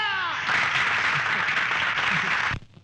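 A burst of dense applause from a comedy show audience, steady and loud for a couple of seconds before cutting off abruptly.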